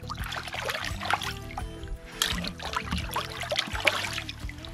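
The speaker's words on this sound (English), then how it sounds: "I'm just gonna rinse these fillets off quick in the lake." Walleye fillets are rinsed by hand in lake water from the shore, giving close, irregular sloshing and trickling splashes that continue in uneven bursts.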